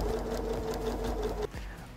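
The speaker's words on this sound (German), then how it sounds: "Und jetzt geht es schon an die Nähmaschine. Wir nähen uns jetzt hier entlang, knappkantig." A sewing machine stitching close along a fabric edge while sewing a drawstring channel on a yoga bag, a steady fast mechanical whirr that stops abruptly near the end.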